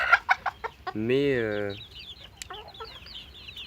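Nearby chickens cluck in short bursts at a poultry farm, followed by a drawn-out squawk and more scattered clucking and chirps; a voice speaks briefly.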